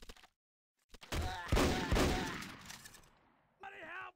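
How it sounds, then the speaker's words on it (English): Gunfire in the Wild West map of the video game MicroVolts: a couple of sharp, loud shots ring out in quick succession amid echoing noise, and there are brief vocal sounds before and after. "Where'd the shot come from?"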